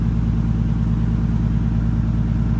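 A car engine runs steadily after a Link ECU installation, its low rumble constant and close for the whole stretch, with no voices over it.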